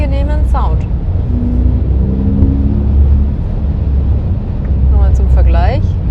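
An electric Porsche Macan GTS plays its artificial sport drive sound as a steady low synthetic hum inside the cabin. Voices talk over it at the start and end.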